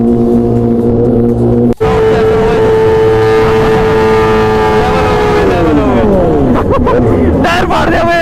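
A superbike engine drones steadily and loudly at a wedding, its pitch climbing and then sweeping as it revs, over a crowd's babble and shouts.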